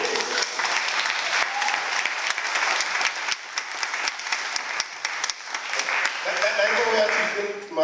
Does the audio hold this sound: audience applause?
yes